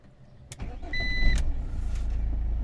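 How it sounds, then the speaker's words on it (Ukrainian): A car engine is started: a short starter whir and a faint whine, then the motor catches and settles into a steady low idle close by, with no voices. "машину заводить, запускаєш зараз"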